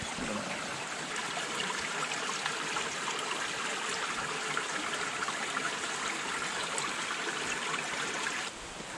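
A river stream in a Turkish canyon flows steadily with a continuous, fairly close rushing and trickling wash that stays even throughout, with no voices.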